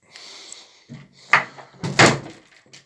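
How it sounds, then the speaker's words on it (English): A door is shut loudly, with soft rustling and handling first, then a sharp thump followed by a heavier bang near the end, close and loud. "did I shut the door a bit too loudly?"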